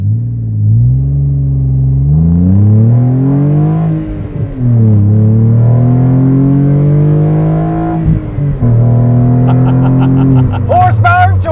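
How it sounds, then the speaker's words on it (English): A 2002 Renault Sport Clio V6 Phase 1 with a mid-mounted 3-liter V6 pulls from a rolling start, its loud engine note rising in pitch through the gears with brief dips at the shifts, recorded close by. "2002 Renault Sport Clio. V6 Phase 1 rolling start."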